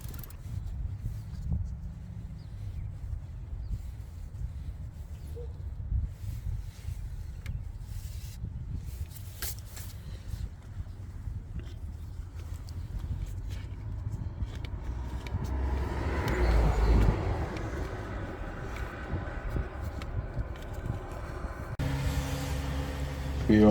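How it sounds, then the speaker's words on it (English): A 2016 Toyota Highlander engine idles steadily to warm its coolant, a low continuous hum with faint clicks and a brief louder swell near the end. "We also start the car to warm up the coolant."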